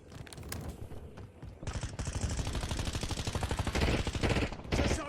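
Warzone gunfire in a squad match: dense, rapid automatic bursts crack close and loud, with a short pause and scattered single shots before a sustained stream of fire.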